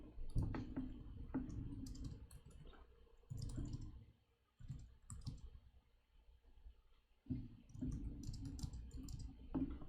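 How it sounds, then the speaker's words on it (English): Fingers type on a computer keyboard in bursts of quick, quiet clicks, broken by short pauses, close up in a quiet room. "let me finish typing in the test cases"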